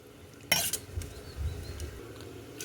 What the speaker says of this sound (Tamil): தக்காளியை நல்லா மசிச்சு விட்டுக்கலாம்